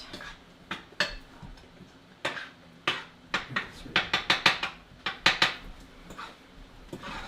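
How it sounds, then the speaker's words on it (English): Glazed carrots stirred in a pan, with a steady series of close clinks and scrapes of a utensil against the pan, quickening in the middle, no voices. "I'm getting my carrots all glazed."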